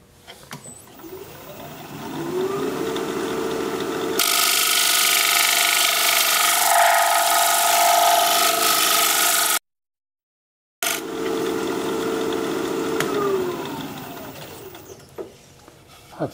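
A wood lathe spins a wooden bowl while a tool scrapes it, giving a loud, steady whirring rasp. The sound breaks off in a brief silence and then resumes, with motor hum at the start and end.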